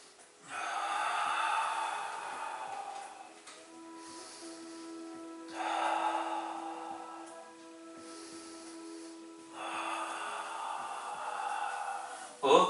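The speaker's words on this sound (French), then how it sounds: "on double la respiration lorsqu'on est en bas" Heavy, deliberate breathing during a Pilates exercise comes in three long, close breaths spaced evenly with quiet gaps between, and a faint steady hum underneath. No one speaks.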